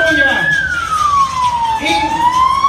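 A police patrol car siren wails loudly at a cycling race, its pitch sweeping slowly down and back up as the car passes close by, with road noise underneath.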